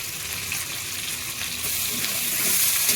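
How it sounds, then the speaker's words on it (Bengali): Green chillies and onions fry in hot oil with a bay leaf while prawn malai curry is being cooked, giving a close, steady bright sizzle that swells slightly toward the end, with no talking. "কাঁচা লঙ্কা দিলেও একটু ভাজতে হবে।"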